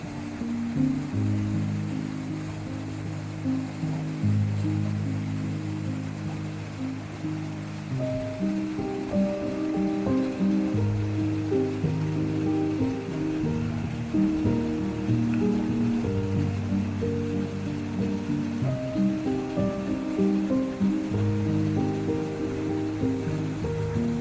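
A waterfall in Rishikesh, India, pours in a steady, full rush of water that holds evenly throughout, with musical tones layered over it and no speech.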